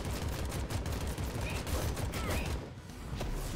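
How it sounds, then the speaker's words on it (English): A Tommy gun fires in a video game, with fairly quiet, rapid rattling bursts of shots repeating steadily over a continuous background of game noise. "We're using the Tommy gun. Tommy gun's so good."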